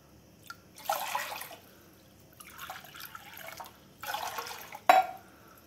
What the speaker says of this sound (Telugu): 3 కప్పులు వాటర్ వేసుకుందాం.